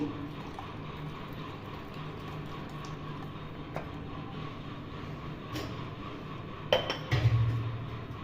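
A metal bowl is set down in a home kitchen during yogurt making, giving a couple of short clinks near the end over a low, steady background hum.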